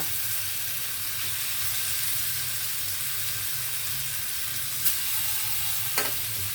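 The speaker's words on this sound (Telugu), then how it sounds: "ఇవి కూడా అలాగే ఫ్రై అవనిద్దాం ఇలాగా అన్ని వైపులా మనము మార్చుకుంటూ ఫ్రై అవనివ్వాలి" Paneer tikka pieces frying in a pan, giving a steady, continuous sizzle and hiss, close and even throughout, with two faint clinks as the pieces are turned.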